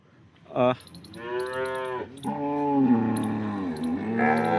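Cows at a Porbandar cattle sale moo loudly in several long, drawn-out calls, one following another close by with little pause between them.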